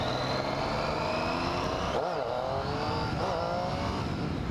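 A motorcycle engine revs in first gear during a wheelie attempt on a ride, a sustained engine drone with a couple of quick rising revs over constant wind and road noise.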